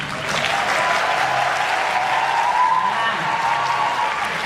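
A talk-show audience claps steadily and fairly loudly for a few seconds, a dense, even wash of hands with no voices over it.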